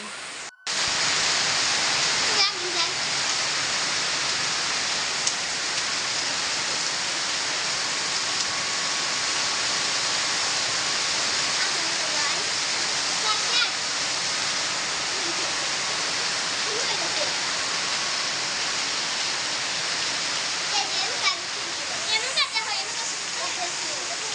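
Heavy rain pours down in a dense, steady hiss that fills the whole stretch, loud and unbroken, with a few faint knocks and rustles nearby.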